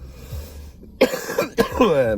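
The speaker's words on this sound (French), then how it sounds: "j'arrête pas de tousser" A couple of sharp, harsh coughs burst out close by, following a moment of low background noise.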